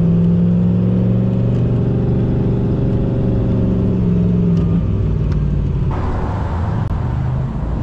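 Turbocharged daily-driver car pulling hard as boost builds, a loud rising engine drone heard from inside the cabin, thinning toward the end.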